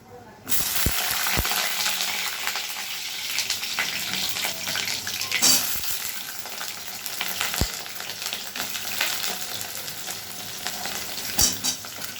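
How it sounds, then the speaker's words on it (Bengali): Pointed gourd (potol) frying in hot mustard oil, a loud steady sizzle that bursts in as the pieces go into the pan and then carries on, with occasional clinks and soft knocks. "তেলটা গরম হয়ে এসছে এবার পটলগুলো ছেড়ে দেবে এক এক করে"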